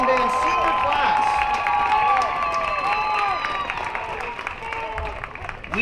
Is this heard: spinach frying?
no